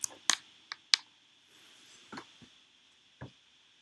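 Computer mouse clicking while importing STL files, a quick cluster of sharp clicks at the start and a few more scattered single clicks afterward, close and clear.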